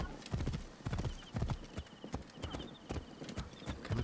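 Horse hooves clip-clop in a steady trotting rhythm across ancient Egyptian ground in Assassin's Creed Origins, loud and close, with faint bright tones ringing above.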